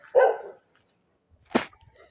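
A small dog barks twice, a short yap followed by a second sharper bark after a pause, close by and clear against an otherwise quiet background.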